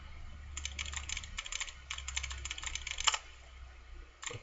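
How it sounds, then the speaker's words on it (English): Rapid keyboard typing while hacking a computer terminal in the video game Fallout New Vegas, a quick run of close, crisp key clicks in bursts with a short pause, over a low hum and no talking. "Typing."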